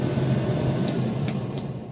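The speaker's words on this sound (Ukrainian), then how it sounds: "І вже вентилятор працює." A ventilation fan in the cab of a Claas Dominator combine harvester runs with the engine off, giving a steady close whooshing hum with a few faint clicks on top.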